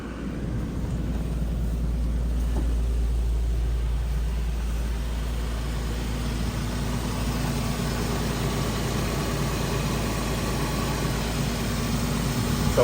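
A 2008-2013 Infiniti G37S Coupe engine idles steadily while warming up, with a low, constant rumble that holds even throughout, with no talking over it.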